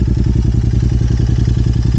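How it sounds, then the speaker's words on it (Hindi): A motorcycle engine idling on a cold morning start in the hills near Dhanaulti, Uttarakhand: a loud, close, evenly pulsing thump that holds steady throughout. "बाइक फर्स्ट सेल्फ में स्टार्ट हो गई, विच वॉज अ ब्लेसिंग।"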